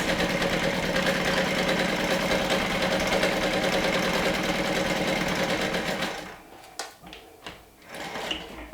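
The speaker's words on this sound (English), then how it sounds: "and then I'm going to top stitch with a 1/4 inch seam allowance" A sewing machine runs steadily and loudly while top stitching a seam with a 1/4 inch allowance, its fast even needle rhythm continuing for about six seconds before stopping, followed by a few light handling clicks.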